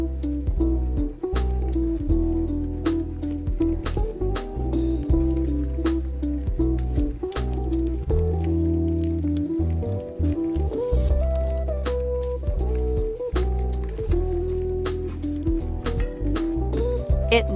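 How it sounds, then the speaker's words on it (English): Stretchy slime is mixed with shaving foam, giving continuous wet squishing, sticky popping and squelching, close and steady, with a low droning hum underneath throughout. "Let's add some shaving foam so it will mix even better."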